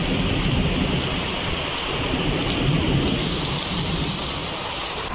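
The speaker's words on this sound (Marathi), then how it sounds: "पहा ना मित्रांनो किती कडाडत आहे, विजा बिजा चमकता वरत." Heavy monsoon rain pours down steadily on a city lane, with low rumbles of thunder rolling underneath the constant downpour.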